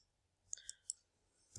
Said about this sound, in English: So you could see I'm typing in my topic.